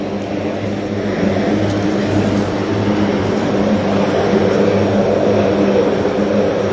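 Propeller aircraft droning steadily and loudly nearby at an official welcome-home arrival, with a constant low engine hum and no other sounds over it.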